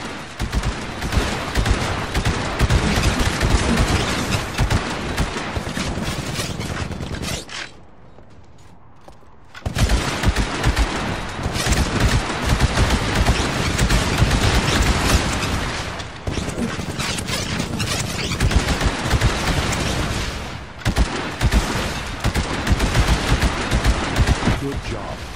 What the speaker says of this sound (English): Destroy the Titan with your anti-Titan weapon.